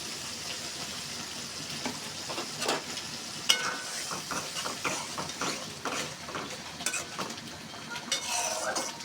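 Shrimp fry in a pan of bitter gourd curry, a moderate sizzle broken by repeated stirring scrapes and utensil clinks against the pot, with no talking.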